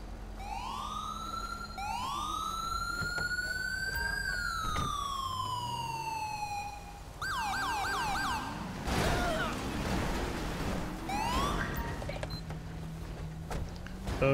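An ambulance siren from the video game Grand Theft Auto V wails loud and close, its rising and falling tones shifting into a fast yelp pattern, with traffic and engine noise underneath.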